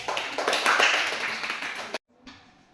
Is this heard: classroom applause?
yes